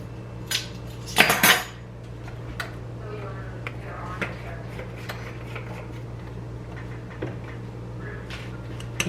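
Applesauce oatmeal bake batter with cinnamon is whisked in a bowl, with soft clinks and taps of a utensil, one louder clatter early on, a faint hum beneath and some talking.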